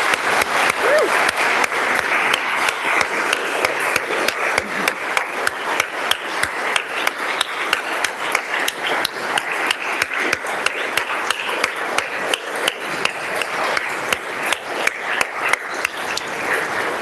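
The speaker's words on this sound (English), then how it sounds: "Members, please join me in giving them another round of applause." Members of a state House legislative chamber applaud together in a sustained, dense round of clapping that fills the room evenly for many seconds, with a faint voice or two underneath.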